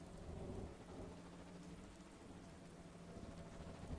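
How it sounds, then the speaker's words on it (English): Rain and thunder in the Star Wars Galaxies video game, with a steady dense rain hiss and a low rolling rumble of thunder, fairly quiet and constant, with no voices. "It's raining again."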